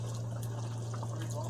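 Hot water poured into a pan of homemade gravy gives a steady, soft liquid rush over a constant low hum, continuous and fairly quiet throughout.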